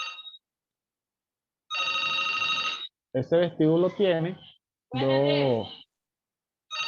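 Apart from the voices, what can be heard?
telephone ringing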